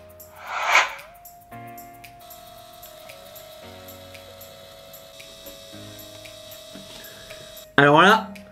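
A photo printer runs through a print job with a steady hum and a faint, regular ticking that continues for several seconds, framed by short bursts of nearby voice at the start and end.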